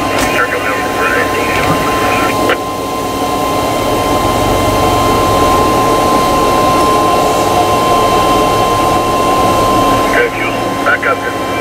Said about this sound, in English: we're gonna haul with a tractor and 2 wagons